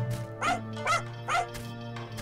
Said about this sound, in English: Oh, dog, what are you protecting?